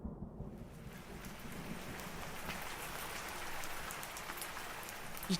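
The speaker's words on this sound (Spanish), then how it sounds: "se deja venir el aguacerazo" Heavy rain downpour pouring steadily, a dense continuous hiss of water hitting surfaces with no break and no voices.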